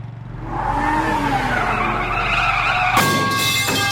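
A car in a video game drives with a steady engine drone and a long squealing tire skid that builds loudly, then cuts into a sharp electronic game sound near the end.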